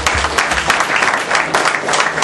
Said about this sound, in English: Sister Margaret, let's give her a round of applause.